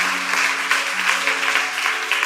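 Congregation clapping together in a church during a French-language service, a dense, steady wash of applause holding for the whole stretch at close range, with a faint voice underneath.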